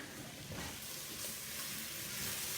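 A pot of smoky bacon and corn soup with onions and potatoes being stirred, a faint, even hiss and sizzle with soft stirring running steadily throughout, with no talking.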